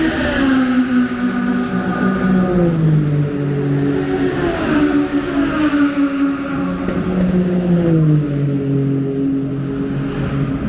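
IndyCar race cars screaming past at the Toronto Indy street circuit, a continuous high-pitched engine whine with rising and falling pitch sweeps as several cars accelerate and shift, loud and fairly close.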